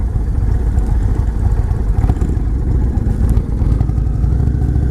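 A 2019 Indian Chieftain motorcycle with a 116 cubic inch engine rumbles steadily during a test ride, a loud, low, continuous engine drone with road and wind noise throughout.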